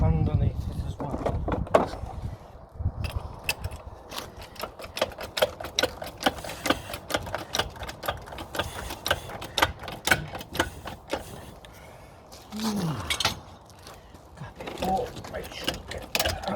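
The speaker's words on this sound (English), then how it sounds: "Wheel's all loosened off, so I'm going to jack it up" Repeated clicking and ratcheting of a car jack lifting a Land Rover during a hub oil seal change, a steady run of close mechanical ticks with brief pauses and someone talking in between.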